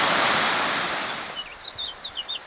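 Rushing water from a waterfall and a river running high after heavy rain, loud broadband roar that eases partway through, with several short bird chirps rising above it near the end.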